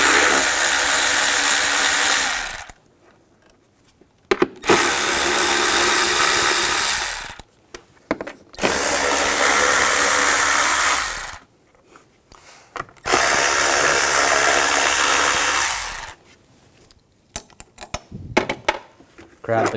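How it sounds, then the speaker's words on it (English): Nuts being removed from the top engine cover of a 2006-2010 BMW 550i 4.8L V8 with a 10 millimeter socket on a power tool, loud whirring bursts several seconds long separated by pauses, with speech in places. "use a 10 millimeter socket,"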